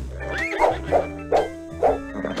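In a Monopoly PC game, the horse and rider token gives a synthetic horse whinny over game music, followed by a few short snorting bursts in a rhythmic pattern.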